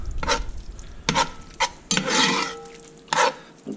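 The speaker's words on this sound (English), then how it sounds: "Go ahead and turn the temperature up a little bit on there. Get that meat cooking a little bit more." Meat from a years-old home-canned jar fries in a hot pan for chili, giving a steady sizzle broken by repeated scraping stirs of a utensil against the pan, close and fairly loud with no talking.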